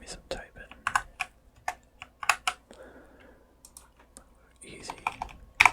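Close, crisp computer keyboard typing while coding a guessing game, with irregular bursts of keystrokes and clacks, soft whispering in places and a louder flurry near the end.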